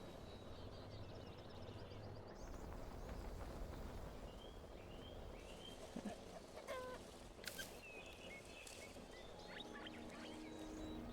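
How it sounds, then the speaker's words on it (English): Chickens cluck softly and intermittently in a pasture in the video game Endzone: A World Apart, faint amid a busy ambient background. "as our hunter captures more chickens, they will be added into the pasture automatically"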